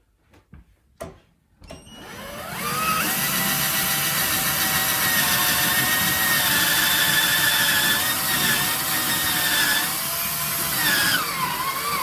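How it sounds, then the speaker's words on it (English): A power drill with a 1/4 inch bit starts after a few clicks and runs steadily for about ten seconds, loud and close, with a grinding whine as it bores an anchor hole into a wall. "I'm going to drill the hole now for the anchor"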